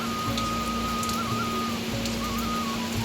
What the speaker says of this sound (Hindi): बाहर लगातार बारिश चल रही है,